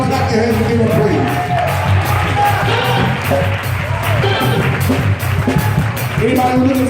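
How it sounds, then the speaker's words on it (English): A church congregation claps and calls out praise, a busy crowd sound of clapping, whoops and overlapping voices that stays loud throughout. "clap your hands and give Him praise"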